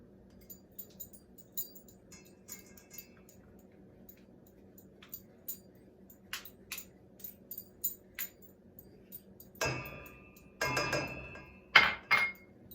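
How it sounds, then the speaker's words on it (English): A utensil stirs flour, salt and baking powder for cream cheese cookie dough in a bowl. For the first part there are soft regular taps over a low hum. Louder, close clinks and scrapes of mixing against the bowl come in bursts toward the end. "We're going to go ahead and just mix this in this bowl really well."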